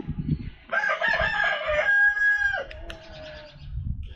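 A chicken in a coop gives a loud, drawn-out crowing call close by, with soft clucks and rustling before and after it.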